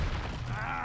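The Confringo fire curse from Hogwarts Legacy goes off as a short, dense burst of crackling blasts, brief and moderately quiet, with a voice faintly underneath.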